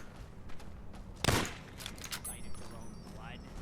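A single sharp gunshot from Fallout: New Vegas cracks out near the middle, with a few softer shots or impacts after it over a quiet outdoor background and faint game sounds.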